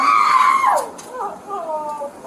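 A woman in distress at an airport cries out in a high, strained voice that wavers and falls, then breaks into shorter pained yelps; loud and close, with no other talk over it.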